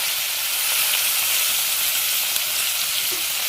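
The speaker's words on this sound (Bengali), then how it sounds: "আর এই যে এখানে গাজর আলুটা দিয়ে দিলাম" Carrot and potato pieces added to hot oil, after ginger, fry with a loud, steady hiss that stays even and close the whole time, with no voices.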